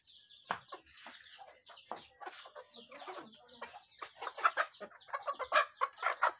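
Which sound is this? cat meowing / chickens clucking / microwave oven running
chickens clucking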